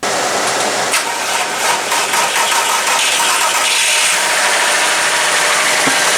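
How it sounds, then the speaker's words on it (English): A Volkswagen Jetta with about 179,000 miles, electrical trouble and no check engine light, idles roughly, a steady close broadband engine drone running alone without voices. "the Jetta's not running correctly. There's no check engine light. It's just sitting here idling."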